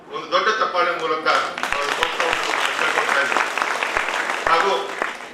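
Audience applause from art patrons gathered in a hall at a Dashavatara performance event, a dense, steady wash of clapping lasting several seconds, with a voice speaking over it at the start.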